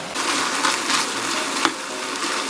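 Anchovies and chili peppers braising with gochujang in a pan, a soft continuous simmering sizzle with occasional light stirring clinks and scrapes, close and moderately quiet.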